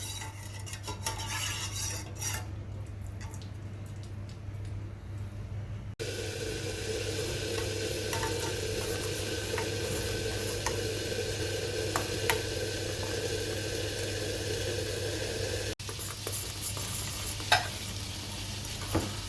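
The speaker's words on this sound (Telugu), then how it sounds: "పాలు పోసిన తర్వాత దీన్ని బాగా మరగనివ్వాలి." Mint tea with milk comes to the boil in a pot on the stove, giving a steady bubbling hiss. A brief clink of utensils is heard near the start, and there is no talking.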